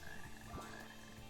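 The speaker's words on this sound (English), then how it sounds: "these frogs right here, whenever you get close to them, they will they'll rain" Frogs croaking in the Sonic Heroes video game, a faint low croak in the middle over a steady bed of game music and ambience.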